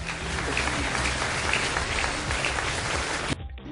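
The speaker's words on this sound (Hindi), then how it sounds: "तालियों की गड़गड़ाहट की आवाज बता रही है" Thunderous applause from a business delegation of Indian entrepreneurs at the Japan Chamber of Commerce, a dense, sustained roar of many hands that cuts off sharply near the end.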